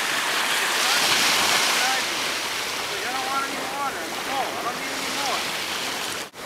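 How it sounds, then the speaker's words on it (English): Ocean surf at Santa Cruz State Beach rolls and washes steadily in a broad hiss, with wind buffeting the microphone and faint voices in the background. "this huge vast ocean."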